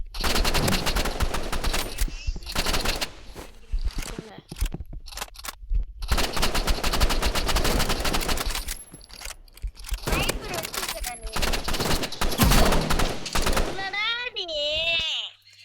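Long rapid bursts of automatic gunfire and single shots from a shooting video game fill the scene loudly, with brief pauses, while players talk over the action.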